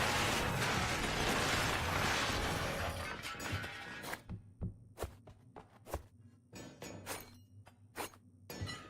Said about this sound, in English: here's my high torque rotating grindy cylinders